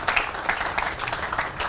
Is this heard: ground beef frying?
no